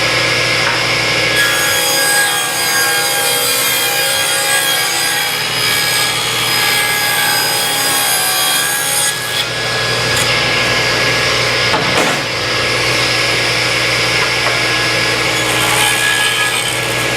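A saw rips a length of wood down for a weather strip holder in a DIY casement window build. Loud, continuous rasping cutting noise runs throughout at close range, with brief dips in intensity.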